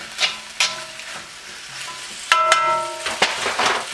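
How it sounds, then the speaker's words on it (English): Beef frying in a pan with onions and peppers for Beijing beef, a steady sizzle broken by several sharp utensil clinks and scrapes as it is stirred, close and fairly loud, with no talking. "I'm going to add the meat back into this."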